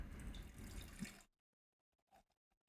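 Lemon seltzer pours out of a can in a steady splashing stream that cuts off abruptly, followed by a few faint drips and small clinks in near silence.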